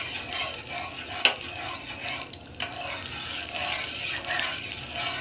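Milk being stirred into a melted milk-powder mixture in a pan for peda, a soft steady scraping and swishing with faint sizzle and one sharp clink, close and continuous, no voices.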